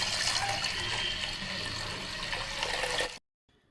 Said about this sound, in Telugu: నేను 2 గ్లాసులు కందిపప్పు తీసుకొని నీట్గా కడిగేసి అందులో అయితే వాటర్ యాడ్ చేసుకున్నాను